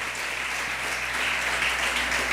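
A church congregation claps steadily for a couple of seconds, an even, fairly soft patter of many hands heard from a distance in a reverberant room.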